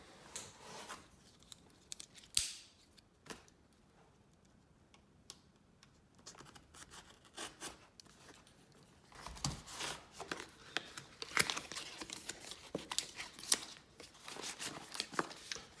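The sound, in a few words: unboxing, tearing open the product box packaging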